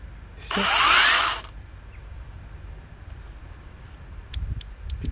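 A short burst of a counterfeit Makita cordless saw whirring for about a second, loud and close, then quiet outdoor background with a few faint clicks.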